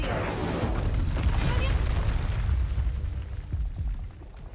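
An Incendio fire spell erupts in the Hogwarts Legacy video game, a loud, roaring whoosh of flame with crackling bursts that holds strong before tapering off toward the end.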